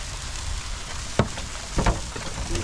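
Jerk ribs sizzle on a grill heated to 300 outdoors in the rain, a steady broadband hiss with a few louder crackling bursts near the end.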